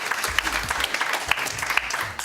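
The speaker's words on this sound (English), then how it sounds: "Keep applauding. Keep applauding." Applause from a high school quiz bowl audience after a correct answer: a steady wash of clapping with sharp individual claps popping through, fairly close and moderately loud, with no voices.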